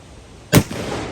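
A single sharp, loud gunshot from a gun firing reloaded rounds, plinking out in the country, cracks once and trails off into a short outdoor echo.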